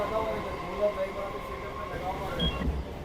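Steady rumble and rattle of a nearly empty early-morning local train pulling out of Bidhannagar station, heard from inside the carriage, with a few faint beeps and a voice speaking over it.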